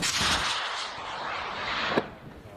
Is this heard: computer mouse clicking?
no